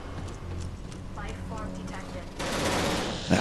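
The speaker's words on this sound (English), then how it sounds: "finally the turret springs into action again" Turret firing in the space game Genesis Alpha One, a steady volley of shots over a low background drone, growing louder and denser toward the end, with someone talking over it.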